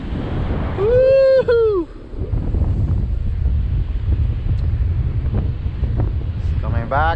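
Strong wind roars and buffets the microphone continuously around a flying DJI Ryze Tello drone, loud and rumbling throughout, with a person's excited whoop early on and brief voice sounds near the end.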